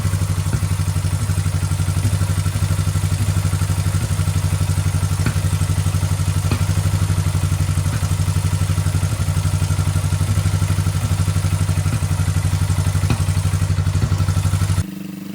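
A 1977 Honda CJ360T motorcycle engine running after an oil change: a close, loud, steady idle with a low throbbing hum and light mechanical clatter, cutting off abruptly at the end.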